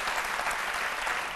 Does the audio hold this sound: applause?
yes